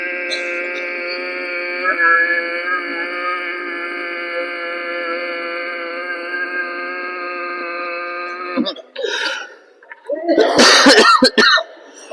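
A long, steady hummed tone during a yoga session gives way to a short pause, then a few rough, loud coughs close by near the end.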